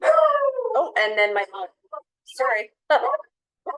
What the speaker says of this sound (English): Okay, that was my dog.